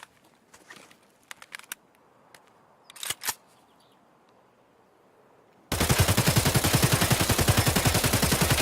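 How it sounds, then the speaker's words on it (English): An unmodded 74M rifle fires in Escape From Tarkov as a rapid burst of shots that starts abruptly after some faint clicks and handling noises. "we're gonna take this gun back to by the fuel tank here and shoot it at a distance"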